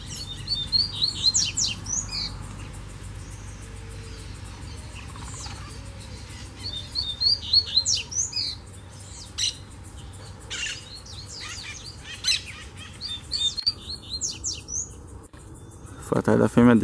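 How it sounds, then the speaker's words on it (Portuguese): Coleiro songbird singing in a bamboo grove, repeated short chirping phrases heard from a distance over a faint steady background hum, with occasional soft handling noises. "Olha o coleiro ali, galera, ó."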